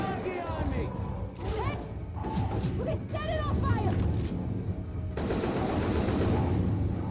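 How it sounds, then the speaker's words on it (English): Rapid gunfire from the video game Left 4 Dead 2 crackles in bursts alongside game effects, with voices talking over the shooting throughout. "Nick, shoot that guy."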